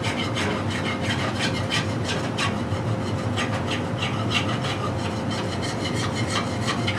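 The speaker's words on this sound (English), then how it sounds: "So I kind of need to sand that off a little bit." Steady hand sanding scrapes over raised high points on a wooden sci-fi guitar's inlay work, the abrasive strokes rubbing back and forth in a continuous close rhythm with no talk.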